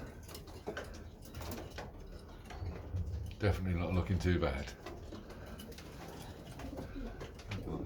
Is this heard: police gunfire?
no